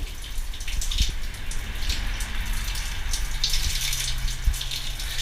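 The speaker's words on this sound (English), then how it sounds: "here we have the shower, complete with Coca-Cola bottle to siphon the water in the right direction" Cold water runs steadily from a makeshift shower fitted with a Coca-Cola bottle to direct the flow, a continuous hiss and splatter close by with a few small knocks.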